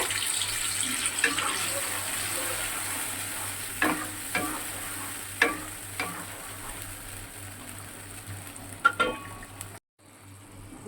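Poppy seed and cashew paste being stirred into hot frying oil with dried red chilies: a steady close sizzle with occasional spoon scrapes against the pan, ending in an abrupt cut.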